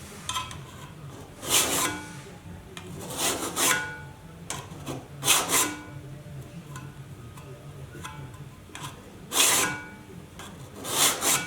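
Cabinet scraper worked against wood held low in a vise, giving repeated rasping scrape strokes at an uneven pace, several louder bursts standing out over a steady low background.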